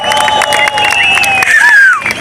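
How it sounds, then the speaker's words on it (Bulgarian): A crowd cheers and applauds at a 2014 car tuning show in Sofia, a dense, loud wash of voices and clapping with shrill whistles rising through it, sustained for a couple of seconds. "аплодисменти за тези здрави мъжаги"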